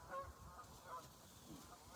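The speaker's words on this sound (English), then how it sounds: "can hear and see the Canadian geese flying overhead." Canada geese flying overhead at the end of January in the Limberlost swamp give a few faint, distant honks in short bursts over quiet outdoor background.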